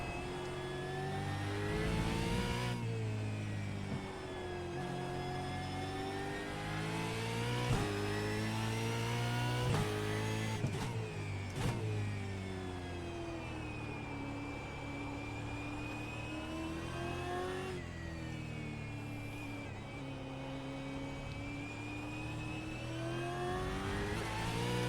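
Supercar race car engine in iRacing at Okayama revs hard and continuously, with rising pitch sweeps through gears and quick drops on downshifts, loud and close with no talking.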